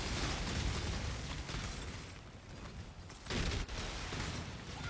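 Monsters exploding in the action game Path of Exile, with a dense, continuous barrage of overlapping blasts and bursts. It dips briefly and then swells back, with no voices.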